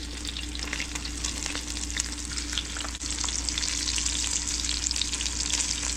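Fish pieces fry in an overly hot pan with a loud, continuous, close sizzle and crackle that holds steady throughout, with no voices.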